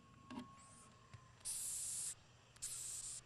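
Hissing insects in a bug museum let out two long, sharp spray-like hisses, each lasting about half a second or more, with small clicks and a faint tone before them.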